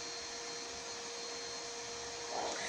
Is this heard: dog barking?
no